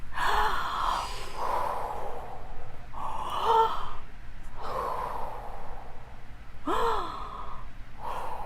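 Three deep, audible breaths are taken in turn, each a long airy inhale and exhale with a slight voiced sigh, separated by short quiet gaps and heard close with no talking.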